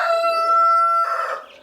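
Newly hatched and growing chicks peep loudly and continuously in a brooder on hatching day, a dense high-pitched chorus of overlapping chirps with no talking.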